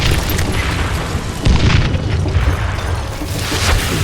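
Thrown dynamite explodes with a loud, rumbling boom that swells partway through and rolls on as a heavy, sustained roar, likely in a video game.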